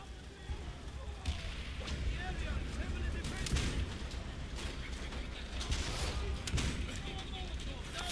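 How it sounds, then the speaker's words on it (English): Gunfire rattles through a Call of Duty: World at War match, dense bursts and scattered shots over steady battle noise, with someone talking over much of it. "Stop shooting at me."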